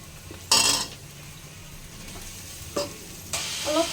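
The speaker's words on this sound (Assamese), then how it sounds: "অলমোস্ট ভাজা হয়ে গৈছে মছলা ইয়াতে মই এতিয়া চিকেনখিনি দিয়ে দিওঁ" Chicken pieces dropped into frying masala in a pan, a sudden burst of sizzle followed by quieter background frying and two more short stirring sizzles, no talk.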